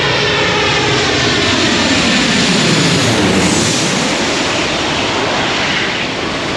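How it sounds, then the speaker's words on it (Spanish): A loud airplane roars low overhead while landing beside a beach in Thailand, engine noise swelling and sweeping past continuously, with a faint wash of surf underneath. "es un lugar espectacular para ver cómo aterrizan los aviones, porque pasan al lado de la playa"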